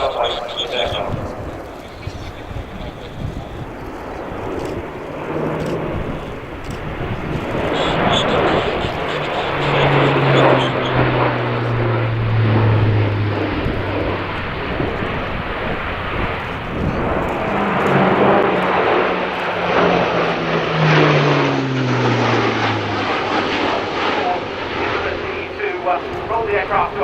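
Airbus A400M military turboprop transport flying a display at RIAT, a loud rumbling propeller drone with rising and falling whines as it manoeuvres overhead, with commentary spoken over it throughout.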